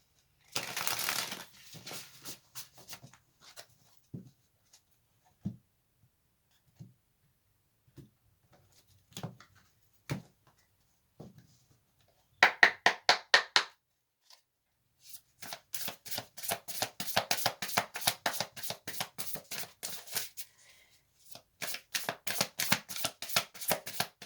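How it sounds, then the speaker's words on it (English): Tarot cards are shuffled close up, first with scattered soft taps and slides, then rapid riffling bursts that flutter repeatedly. "One more shuffle."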